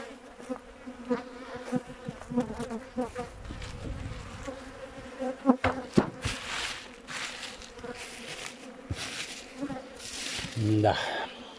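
Honeybees buzz steadily around beehives at an apiary, a close, continuous droning hum with bees passing near, while a person talks at times and handles the hive.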